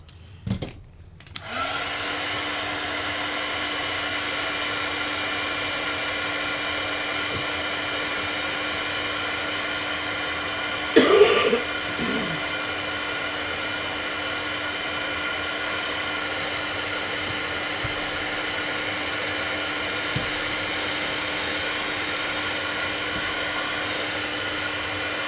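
A heat tool used on embossing powder starts up and runs as a steady, loud blowing whir with a constant hum, with a few brief handling knocks partway through.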